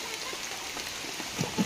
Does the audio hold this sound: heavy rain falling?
yes